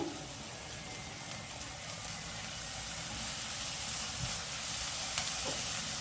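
Soy sauce goes into mushroom fried rice sizzling in a hot pan, giving a steady, fairly soft crackling hiss that runs continuously and rises slightly toward the end, with a few faint stirring clicks.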